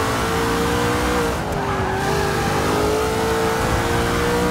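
Race car engines roar at full throttle in the racing video game Forza 6, a loud, continuous high-pitched drone with shifting revs and tire squeal running throughout.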